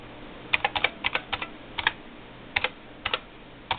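Password typed on an IBM 3151 serial terminal keyboard, about a dozen crisp key clacks in small uneven bursts and pairs, close and clear over a faint steady hum, with no talking.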